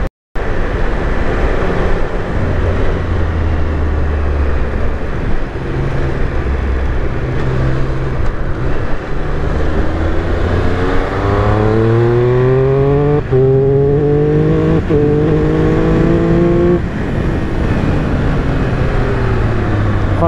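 A Triumph Speed 1200RR motorcycle engine drones steadily while riding, heard close and continuous under wind noise. Its pitch climbs through gears, then falls away as the bike brakes.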